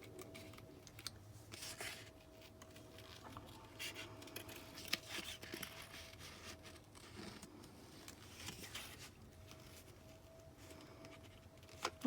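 Scissors snip through paper while cutting out a homemade box for Mother's Day, making quiet, close crisp snips at irregular intervals against a faint background hum.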